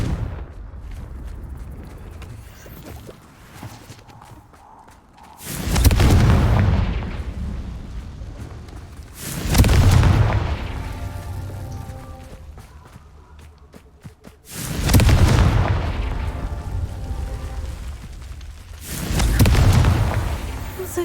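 A Confringo blasting spell in the Hogwarts Legacy video game sets off four heavy, booming explosions spaced several seconds apart, each a loud deep blast that fades slowly into a rumbling tail.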